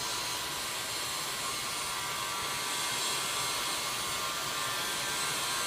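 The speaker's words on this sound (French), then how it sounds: "Donc, c'est un fusil chauffant. Et on va chauffer" A heat gun blows hot air over the outside of a dented plastic rotomolded kayak, making a steady, loud, unbroken whooshing hiss that runs the whole time.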